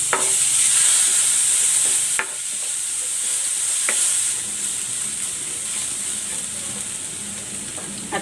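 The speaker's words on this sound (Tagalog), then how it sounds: "Magigisa na ako ng bawang." Garlic sizzles and fries in hot oil in a pan, a loud steady crackle with occasional scrapes and stirring clicks throughout.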